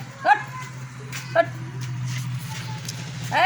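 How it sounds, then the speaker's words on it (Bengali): A dog gives a couple of short yips or whimpers over a low engine hum, with another yelp at the very end. "কুকুর"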